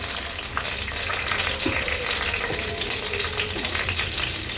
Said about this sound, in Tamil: இதை நல்லா இப்போ ஃப்ரை பண்ணிக்கணும்.